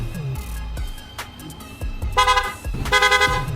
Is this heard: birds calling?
no